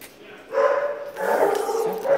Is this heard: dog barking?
yes